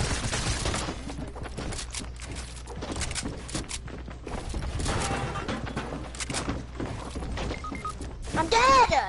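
Shotgun blasts and other gunfire from an arena shooter game sound in dense bursts, with clattering effects and a voice talking over the action.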